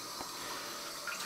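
Cold tap water runs steadily into a sink for rinsing after a traditional shave, a soft, even rush of flow with a slight splash toward the end.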